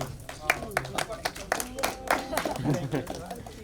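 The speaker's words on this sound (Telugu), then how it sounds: "గట్టిగా క్లాప్స్ కొట్టాలండి" An audience at a movie success celebration claps in a short burst of sharp, scattered claps under ongoing talk.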